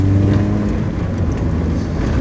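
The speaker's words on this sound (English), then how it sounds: "you get to hear the induction as it comes to the camera, and then the exhaust from behind" A Mazda MX-5 Mk1 SR Limited roadster's engine drones loud and close, a steady low rumble from the induction and exhaust with no voices over it.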